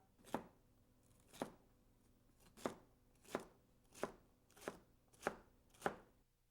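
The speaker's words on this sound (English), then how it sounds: "You can use any knife to cut this that you feel comfortable." A knife chops green pepper on a cutting board in seven steady, evenly spaced strokes, each a crisp close thud, with no talk.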